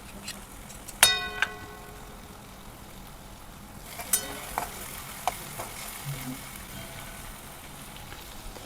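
Okra masala with yogurt being sautéed in a pan: a soft, steady sizzle with sharp spoon scrapes and clinks against the metal, two louder strikes early on and smaller taps after.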